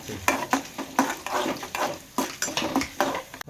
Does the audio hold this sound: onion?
yes